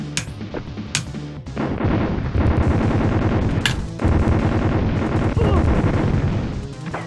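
Gunfire from the SNES game Robocop vs Terminator with unlimited ammo: loud, rapid electronic shots fire in a steady, continuous stream for most of the stretch, mixed with game music and effects.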